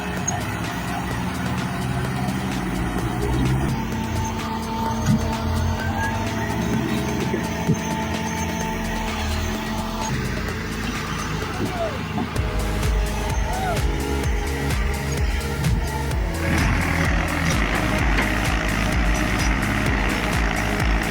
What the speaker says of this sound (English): The engine roared like thunder, over 600 horsepower transmitted through each slippery wheel.